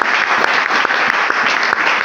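A church congregation claps loudly for the Lord during a sermon, with dense, sustained applause and sharp individual claps throughout.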